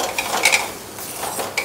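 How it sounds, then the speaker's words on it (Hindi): A soya sandwich filling with oregano sauce and coriander is mixed with a spoon in a bowl, giving brief, close scraping and clinking strokes. "अब इन सबको अच्छे से मिक्स कर दो।"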